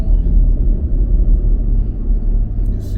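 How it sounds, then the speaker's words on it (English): A 2013 Chevy Equinox with fire damage sits with its radiator fan still spinning, a steady, loud low whirring rumble that holds evenly throughout with no voices. "I can hear the radiator fan still spinning."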